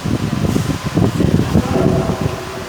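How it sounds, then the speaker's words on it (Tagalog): An electric fan running at a high-voltage cable termination work site, a steady close whooshing air noise that fills the short stretch without speech. "we have electric fan here"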